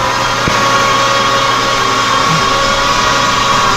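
A Grizzly machine grunts under strain in low gear while shaping scrap steel into a keyway broach plate, giving a loud, steady mechanical drone with one sharp tick near the start.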